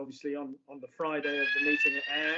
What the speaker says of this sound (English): That is a fire alarm.